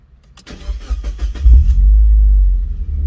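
A Mazda Miata with a custom exhaust cranks over with a rapid starter whir, then catches into a deep, steady idle rumble close by, with no talk.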